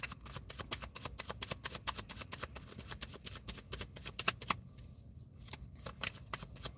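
A deck of cards is shuffled close up, a quick fluttering riffle of crisp snaps that runs fast and even, then thins to a few scattered flicks near the end.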